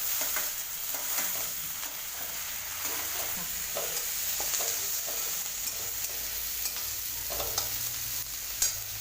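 Tomatoes hit a hot pan for dal batti and sizzle steadily while a spoon stirs, with scraping knocks and clicks over a constant close frying hiss.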